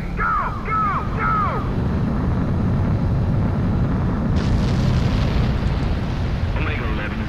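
Fighter jet takeoff in Ace Combat 7: a steady loud engine roar that swells partway through, with radio-style voices talking over it early and late.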